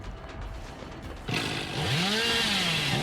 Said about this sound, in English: I honestly took the chainsaw charge faster than that